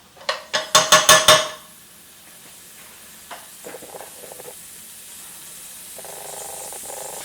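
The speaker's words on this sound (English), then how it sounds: "And then you've got your garlic ginger paste in here. It's just sizzling nicely." A few sharp clattering knocks at the start, then garlic ginger paste sizzles softly and steadily in hot oil in a pan, with occasional small crackles.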